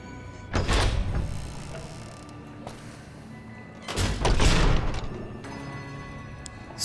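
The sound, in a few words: sliding door opening in video game Fallout: New Vegas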